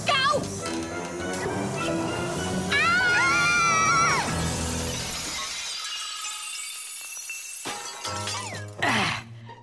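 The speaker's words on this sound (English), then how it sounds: "And who's going to clean up all this broken glass?" Glass shatters with a bright, loud crash in a cartoon laboratory, followed by tinkling fragments, while animated characters speak and exclaim around it over background music.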